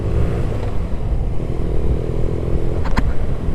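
Air-cooled boxer engine of a BMW R nineT motorcycle running steadily at close range, a continuous low rumble with a faint clatter and a short sharp clack near the end.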